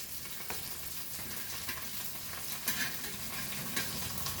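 Curry sizzles and bubbles steadily in a pan as fried hilsa fish is added to a boiling Goan curry, close and continuous with soft clinks and stirring sounds.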